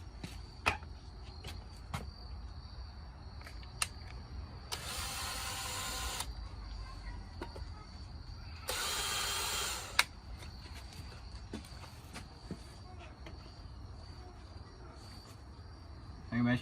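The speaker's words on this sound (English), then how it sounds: "we're going to drill the holes in the shimmy, in the door jamb" Two separate bursts of a power drill boring holes into a wooden door jamb and shim while installing a storm door, each lasting a second or two, close by, with quiet ticks and shuffling in between.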